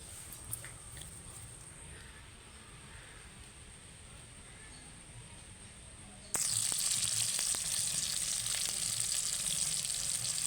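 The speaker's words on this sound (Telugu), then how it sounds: "నూనె కాగింది ఫ్రెండ్స్ ఉల్లిపాయలు వేస్తున్నాను" Onions dropped into hot oil in a pot on a wood-fired stove, a quiet background hiss that jumps suddenly into a loud, steady sizzle with small crackles.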